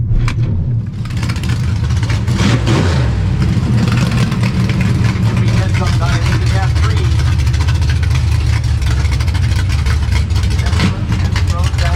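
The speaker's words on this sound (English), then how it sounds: "That's a burnout." A car does a burnout at a drag strip. The engine roar and tire noise are loud and sustained for the whole stretch, with voices faintly underneath.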